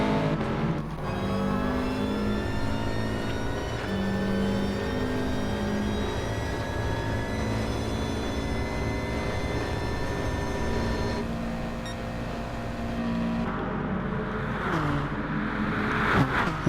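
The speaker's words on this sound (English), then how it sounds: "It's a great camera angle there as the cars rush past." Touring cars in a racing game at Bathurst roar past in a continuous dense engine drone, high-revving and steady for most of the stretch, swelling and fading near the end as they rush by, loud and close, without talk.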